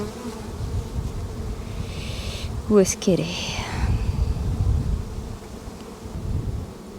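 A steady, low droning buzz of many honeybees at an open hive fills the background while a person briefly speaks close by.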